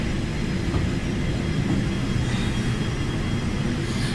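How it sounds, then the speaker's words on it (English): A Falcon 50 business jet's landing gear lowering in the Prepar3D flight simulator, a steady, loud broadband engine and airflow roar that stays constant throughout with no distinct mechanical clunk standing out. "we're going to lower our landing gear"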